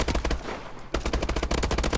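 Call of Duty Advanced Warfare exo survival gunfire, dense rapid automatic bursts, loud and close, with a short gap before the firing resumes, no talking.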